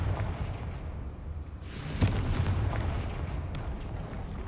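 A Confringo explosion spell in Hogwarts Legacy bursts with a loud, sharp boom and a rushing whoosh. Rumbling game noise continues throughout.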